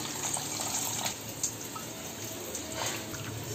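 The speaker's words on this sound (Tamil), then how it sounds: "புளி கரைச்சாச்சு, நம்ம வடிகட்டிக்கலாம்." Dissolved tamarind water being strained for a fish curry, a steady close trickle and pour of liquid with faint drips, with no one speaking.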